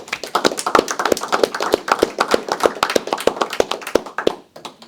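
A small audience at a men's club meeting claps together, a quick dense patter of hand claps that stays steady and close before tapering off at the end.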